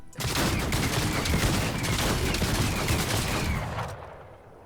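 Rapid, dense bursts of shotgun fire from the primal shotgun in Fortnite, loud and continuous for nearly four seconds before cutting off abruptly, followed by a brief quieter tail.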